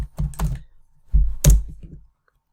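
A quick search is typed on a computer keyboard, several close, crisp keystrokes in two short bursts, with a louder thunk of a key near the middle, then silence.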